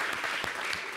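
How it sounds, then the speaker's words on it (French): A television show's studio audience breaks into dense applause, heard as a brief burst of clapping at moderate volume. "Est-ce qu'on peut l'applaudir s'il vous plaît?"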